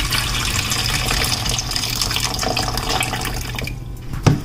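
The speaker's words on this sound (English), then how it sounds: "I'm going to strain it. Use my hand like a strainer." Water from cooked cabbage drains and splashes steadily as it is strained by hand into a sink, a close, continuous pouring hiss ending with a short drip and knock.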